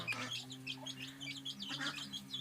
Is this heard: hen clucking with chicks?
yes